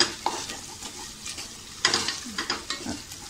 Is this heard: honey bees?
no